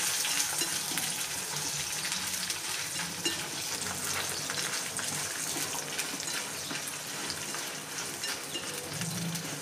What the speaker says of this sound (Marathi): तर हे चांगलं तडतडू द्यायचं.